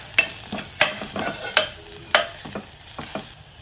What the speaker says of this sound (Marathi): आता मसाले परतून घ्यायचे।